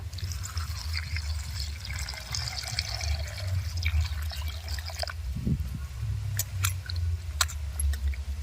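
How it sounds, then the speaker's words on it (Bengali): Cut banana stem is washed in water in a basin. Soft continuous sloshing and trickling water is heard close up, with a few clearer drips and splashes near the end and no talk. "কলার থোড় বানিয়ে নিয়েছি এবার ধুয়ে নেব"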